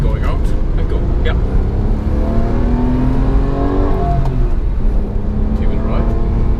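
A Porsche 911 997 Carrera with a six-speed manual gearbox accelerates, its engine note rising and holding loud and close throughout, with someone talking over it.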